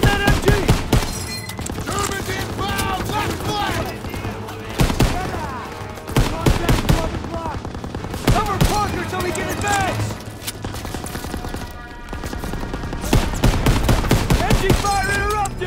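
Dense machine-gun fire in Call of Duty: WWII on the Hill 493 battle, with rapid bursts and heavy gunshots loud and close, layered with shouting voices and game music throughout.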